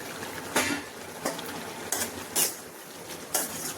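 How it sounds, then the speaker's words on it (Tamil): Lid lifted off a cooking pot of goat head curry, with several sharp metallic clanks and scrapes spaced over a few seconds against a low simmering hiss, close and fairly quiet with no talk. "இப்போ மூடி ஓப்பன் பண்ணிக்கலாம்"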